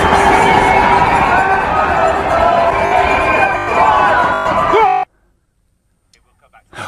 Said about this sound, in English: thousands of people here cheering on spectators